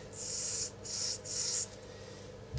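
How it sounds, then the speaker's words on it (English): A spray paint can with a nearly blocked cap gives three short test bursts, hissing close and fairly loud with brief pauses between them, then quiet. "Little test spray."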